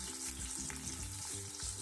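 Chopped onions frying in hot oil in a pan for chicken biryani make a continuous bright sizzle, close and even, with a low tonal hum underneath and no talking.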